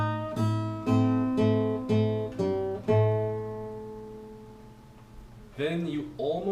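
Fingerstyle acoustic guitar playing a tune over a steady monotone bass line, several plucked notes and double stops ringing and decaying, moderately loud and close, ending with a short busier phrase.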